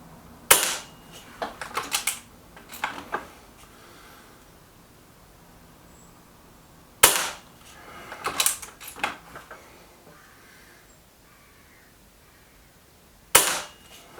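Gamo Venari air rifle firing JSB Match Diablo pellets: three sharp, loud shots spaced several seconds apart, each followed by a short burst of clattering thuds and knocks from the target area.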